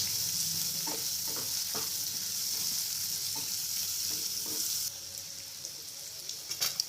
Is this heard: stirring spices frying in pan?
yes